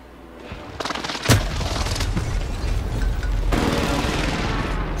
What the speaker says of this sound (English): I got an airstrike.